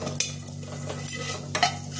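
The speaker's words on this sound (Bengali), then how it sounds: "আমি এবার তিল বাটাটা দিয়ে দেবো।" White sesame paste is stirred into a sizzling pan holding oil tempered with dried red chillies and fenugreek, a steady close hiss punctuated by three or four sharp scraping spoon strokes.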